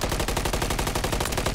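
Rapid automatic gunfire in a video game, a loud continuous burst of evenly spaced shots that fills the whole moment without any talk over it.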